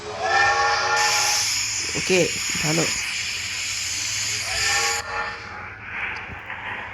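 A toy train's steam whistle in the Roblox game blows a loud, hissing blast for about four seconds, with steady hiss before and after it and brief talk in the middle.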